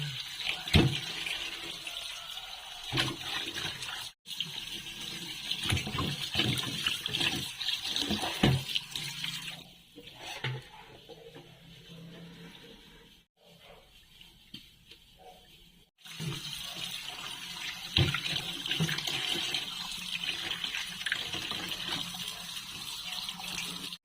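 Tap water runs over tilapia being washed in a sink, a close, splashing stream that stops briefly and resumes, with handling noises and no speech.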